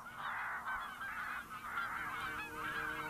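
Geese in the fields near Altenberg honk loudly and repeatedly in an overlapping chorus of nasal calls. No one speaks.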